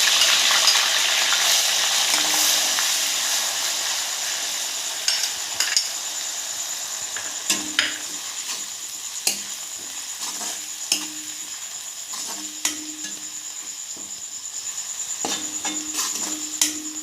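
Onions sizzle steadily in hot mustard oil with bay leaves for an Assamese-style chicken dish, a continuous frying hiss broken by occasional light clinks of a spoon stirring the pan.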